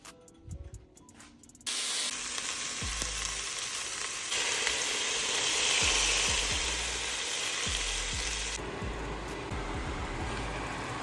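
Food drops into hot ghee and sizzles loudly, a dense hissing fry starting abruptly after a few quiet clattering seconds and continuing steadily, with occasional utensil clicks.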